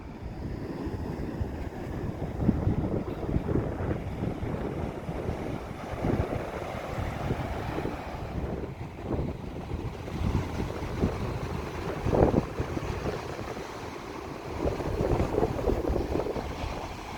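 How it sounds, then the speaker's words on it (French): Rough surf churns steadily with wind buffeting the microphone, broadband rumble rising in surges every few seconds, no voices. "la mer est très très agitée. Il y a énormément de vagues."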